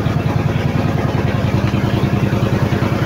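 A boat engine runs with a fault, loud and close, a low rapid chugging throb that holds steady throughout.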